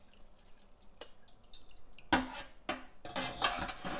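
Water splashes and pours in short bursts over split black urad dal as it is rinsed and strained, with a couple of drips and a clatter at the start, then a longer gush near the end.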